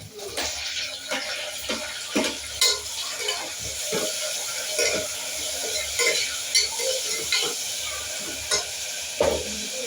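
Tomatoes and onions fry in oil in a pan, a steady sizzle running throughout while a spoon scrapes and stirs in repeated, irregular strokes close by.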